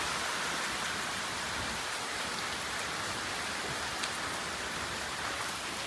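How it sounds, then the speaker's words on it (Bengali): Sudden morning rain in a Bengali village falls steadily as a dense, even hiss, close and continuous, with occasional faint patters and no voices. "হঠাৎ করে বৃষ্টি চলে আসছে।"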